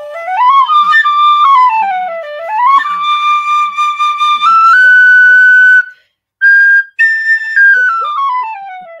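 Irish whistle plays a bright, clear tune of rising and falling phrases with held notes and quick ornaments, close and loud, with a brief pause near the end before the melody resumes.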